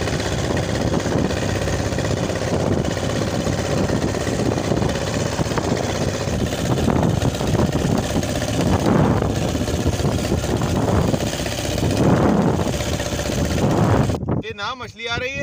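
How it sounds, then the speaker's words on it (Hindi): A fishing boat's engine runs at sea off Pakistan, a steady droning hum throughout, with voices talking over it. "चीफ भाई हमारा स्टार्ट करें इंजन, हम निकलें शिकार की तरफ"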